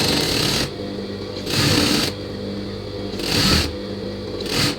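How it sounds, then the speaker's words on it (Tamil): A sewing machine runs in several bursts, stitching a seam on an L-size nighty, each run a close, steady mechanical whir separated by short pauses. "அந்த மார்க் மேலே அப்படியே தைச்சிக்கோங்க"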